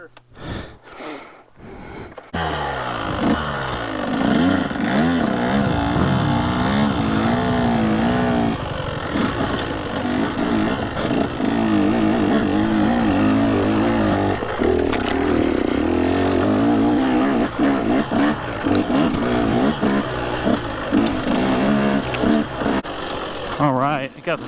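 KTM 150 SX two-stroke dirt bike on an off-road trail, revving loudly and continuously with rising and falling pitch, close up, with a voice speaking briefly at the start.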